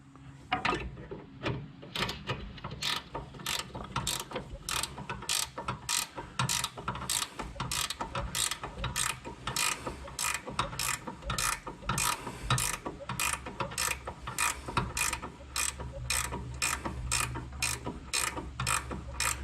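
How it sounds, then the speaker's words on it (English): A ratcheting wrench turns a brake bolt on a 2006 Nissan Altima in quick, even bursts of sharp clicks, repeating steadily and up close for the whole stretch. "this ratcheting wrench makes it so much easier"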